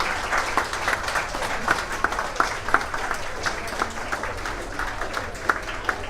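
Wedding guests applaud during a cake cutting, a dense sustained burst of many hands clapping close by for the whole stretch, with faint voices in the background.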